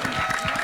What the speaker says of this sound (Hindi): एक बार जोरदार तालियां बजा दो यार